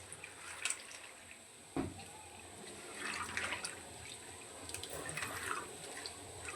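Spinach leaves are rinsed under running water in a kitchen, a soft, faint trickle and splash with occasional louder drips and a sharp knock near the middle.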